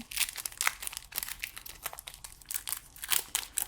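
Pokémon HeartGold SoulSilver booster pack wrappers are torn and crinkled open in close, irregular bursts of crackly foil rustling that rise and fall, with no voice.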